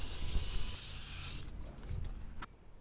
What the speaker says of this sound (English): I'm giving this a thorough cleaning with the brake cleaner